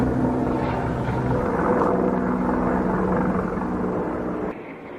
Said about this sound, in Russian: Вы видите кадры, как вертолет сирийских ВВС сбрасывает несколько бочковых бомб на один из городских районов Дараи.